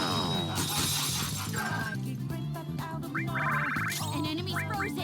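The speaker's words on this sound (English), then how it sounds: "An enemy's frozen. Let's shatter it once ice attacks are out." A frozen enemy shattering in Persona 5, a bright crash of breaking ice and glass layered over busy game music and sound effects, loud and dense throughout.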